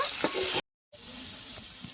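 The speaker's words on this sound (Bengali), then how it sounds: "চেরা কাঁচা লঙ্কা দিয়ে আলু ভালো করে একটু ভেজে নেব" Potatoes fry in a pan with slit green chillies and turmeric, a close, bright sizzle with light stirring that cuts out briefly and then returns a little quieter.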